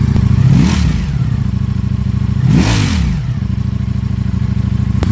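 A Ducati Streetfighter V4S superbike engine, nearly new with about 45 miles, revs twice in loud close bursts that rise and fall, settling back to a steady idle rumble between blips.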